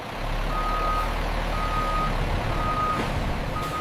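A delivery truck backs into its unloading position at a large banana chip factory, its reversing alarm beeping steadily at regular intervals over a constant low engine rumble and broad background noise.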